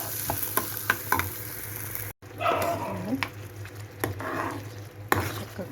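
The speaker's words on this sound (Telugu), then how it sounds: "ఇంకా జస్ట్ ఇలా మిక్స్ చేసుకోవడం" Aloo paratha potato filling being stirred and mixed in a hot pan, soft sizzling under scattered scraping and tapping of the spoon, with a brief dropout of sound partway through.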